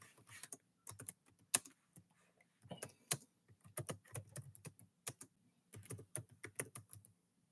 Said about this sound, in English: Oh, my typing is so bad.